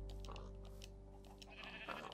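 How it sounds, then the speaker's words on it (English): A Minecraft sheep bleats in short, wavering cries, close and fairly clear, with a faint steady hum beneath. "I don't know why they had a sheep"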